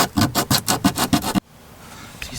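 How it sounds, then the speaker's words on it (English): Abrasive paper rubbed back and forth on bare metal on a camper to make an earth connection: nine or ten quick, rhythmic rasping strokes up close, then an abrupt stop into quiet. "I'm just going to sand this."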